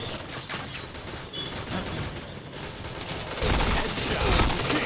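Dense gunfire in a mobile battle-royale shooter game, a steady rattling fusillade that swells louder toward the end, with players chattering over it.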